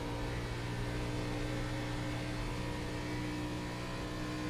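A race car engine in the iRacing sim held at full throttle at Auto Club, a steady loud drone with strong harmonic tones and no letup.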